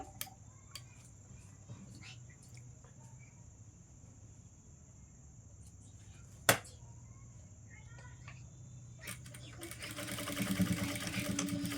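A sewing machine double-stitches a seam on a child's palazzo top: faint handling clicks and a sharp tap, then the motor whirs up into a steady, quiet run near the end.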